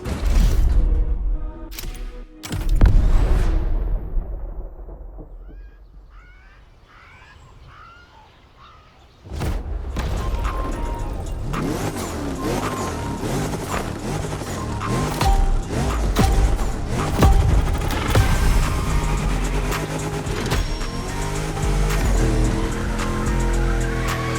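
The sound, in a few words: DeLorean drift car engine in video game The Crew Motorfest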